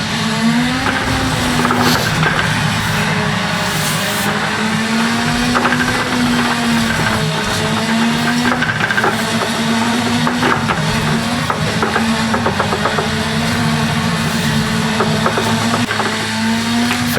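Peugeot 208 engine in a racing video game driven with a Logitech G923 wheel, a steady mid-pitched drone with the pitch rising and dipping through gear changes, loud and continuous for the whole stretch with no talk.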